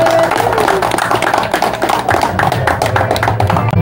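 Guests at the 7th anniversary gathering of GSSI in Baco, Oriental Mindoro applaud, a close, busy clatter of clapping hands over a low musical hum and background voices.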